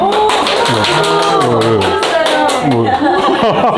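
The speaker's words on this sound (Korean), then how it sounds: "오늘 늦게 오시는 분마다 다 박수 받았어요" A small humanities reading class claps to welcome a latecomer. Many hands applaud close by in a short burst, with voices and chuckles mixed in over the clapping.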